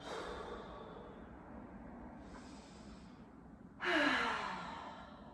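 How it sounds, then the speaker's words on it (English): Deep breathing during a yoga flow class: soft, close breaths in and out, faint at first, then one louder, hissing exhale near the end, with no talking. "Take a couple deep breaths."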